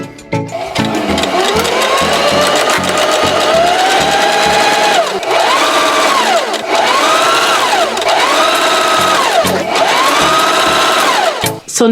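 A sewing machine stitches a sleeve onto a dress along a 5/8 inch seam, running continuously and loud up close with a rapid rhythmic needle patter and several rising and falling changes in speed.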